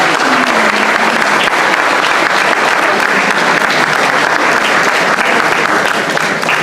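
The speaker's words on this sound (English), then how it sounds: "let's give them all a great applause for doing it." Loud, sustained applause fills a pageant hall, dense and even from start to finish with a faint voice briefly underneath early on.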